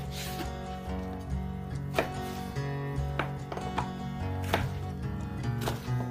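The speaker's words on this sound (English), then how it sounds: "You can chop them as fine as you like" Sweet red chili peppers are chopped with a knife on a cutting board, giving a series of crisp, irregular knocks close by. A faint steady hum sits underneath, and nobody speaks.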